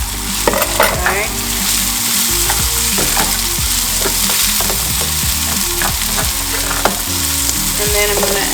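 Beef with leftover spices for a South African beef stew sizzles loudly in a pot, with a steady crackling fry broken by frequent scraping and clinking of a spoon stirring close by.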